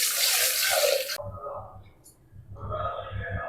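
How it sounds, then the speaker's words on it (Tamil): Horse gram rinsed under a running kitchen tap, a broad rush of water for about a second, then quieter splashing and dripping with a voice talking over low background noise. "கொள்ளு கழுவியாச்சு."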